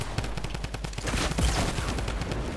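Rapid automatic gunfire in the battle royale game Fortnite, a steady run of close, punchy shots with a louder burst midway and no pauses.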